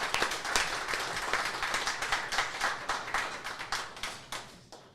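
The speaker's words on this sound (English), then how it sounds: "Wow, that was a pleasant clap." Applause in a radio studio during a live cooking show, a run of sharp, distinct claps in a quick uneven rhythm, close and fairly loud, with no talk over them.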